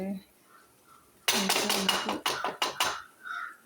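Rice being stirred in a pot while cooking chicken curry, a run of scraping, clattering strokes from a spoon against the metal, close and fairly loud, with a person talking quietly before and after.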